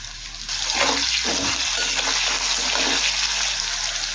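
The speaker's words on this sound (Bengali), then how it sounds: "এখন তেলের মধ্যে দেবো ডুমো করে কেটে রাখা আলু, অল্প করে লবণ আর একদম অল্প পরিমাণে হলুদের গুঁড়ো" Diced potatoes with a little salt and turmeric drop into hot oil, setting off a loud, steady hiss and sizzle that holds for several seconds after a short quiet start.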